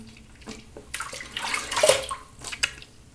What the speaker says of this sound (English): I'm definitely one of those people that rinses in between passes